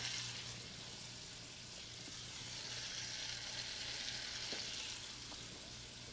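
Sausages sizzle steadily in a hot pan over high heat for a holiday dish, a continuous hiss with faint pops and a low hum beneath, no talking.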